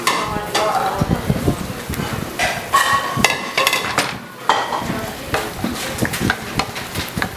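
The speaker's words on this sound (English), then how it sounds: "Give it a good mix." A spoon or utensil scrapes and clacks against a bowl while salted food ingredients are mixed, irregular stirring knocks up close, with faint talk now and then.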